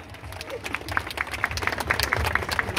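A live concert audience applauds a performer, with a dense, continuous patter of many hands clapping that builds louder across the moment, a few voices faintly mixed in.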